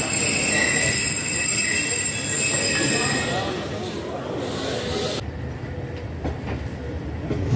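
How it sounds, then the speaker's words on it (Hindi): A passenger train pulls out of Jhelum railway station in Pakistan, its wheels squealing in high, sustained tones before settling into a steady rumbling roll, with a voice speaking over it. "दो मिनट के स्टॉप के बाद ट्रेन जो है वो झेलम रेलवे स्टेशन से निकल गई है"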